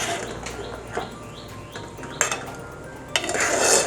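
A spoon scrapes and clinks against a metal pot while ripe mango curry is stirred, giving several short close knocks and scrapes, with a faint chirping in the background.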